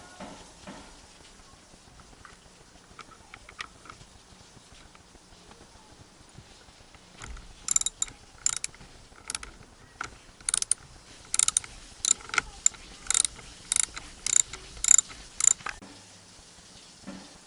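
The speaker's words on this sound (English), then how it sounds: "Use a T50 socket to remove the steering wheel bolt." A ratchet with a T50 socket works a steering wheel bolt loose on a 1999 Ford Explorer, sounding as a string of sharp, close, clicking bursts after a quiet start, with short pauses between the runs.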